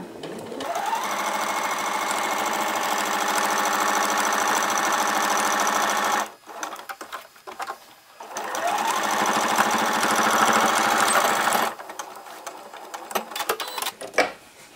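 A sewing machine stitches a fabric face mask in two long, steady runs of rapid whirring, with a pause in between filled by fabric handling and clicks as the work is pivoted at the corners.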